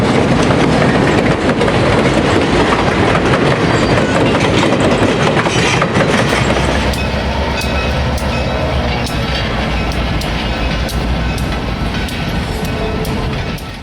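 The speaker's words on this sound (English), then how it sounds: "ALCO S2 2375 exits Tunnel 5 with a Central Coast Railway Club Goat Paths excursion on October 18, 1959." ALCO S2 diesel switcher 2375 hauls a 1959 railway club excursion out of Tunnel 5, a loud close rumble of engine and rolling cars that eases into rhythmic clickety-clack of wheels over rail joints.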